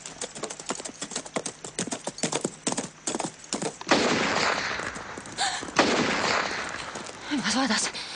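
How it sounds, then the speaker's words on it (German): A film sound effect of a rapid burst of sharp gunshots gives way to galloping horse hooves and a roaring, noisy rush, with a few short voiced cries near the end. "Wer hat da geschossen?"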